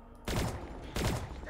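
Gunfire in Call of Duty Zombies, two loud close bursts of rapid shots a little over half a second apart, with quiet game ambience between them.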